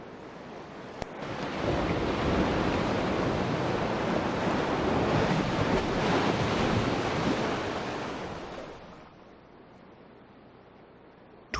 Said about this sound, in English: the mid-ocean waves that pound the outer reef